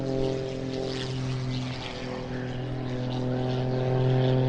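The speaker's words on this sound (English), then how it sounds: "This then Rich Goodwin in his muscle biplane, his pit, and here's another knife edge pass" A Pitts muscle biplane flies a knife-edge pass at an airshow, its propeller engine giving a loud, steady, droning buzz that swells slightly as it passes.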